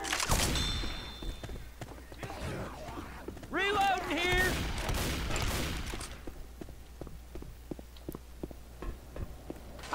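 Rapid gunfire bursts crackle in a Left 4 Dead 2 finale, mixed with a creature's roar and game noise while players shout over the action.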